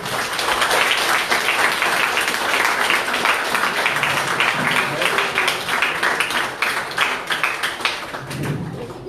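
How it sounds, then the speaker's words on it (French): An audience claps for the nursing staff at a ceremony naming an EHPAD care home, sustained crisp applause throughout with a voice speaking over it near the end. "Je vous demande de l'applaudir."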